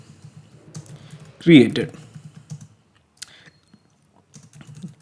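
Light keyboard typing, a few soft scattered keystrokes heard behind a man's speech.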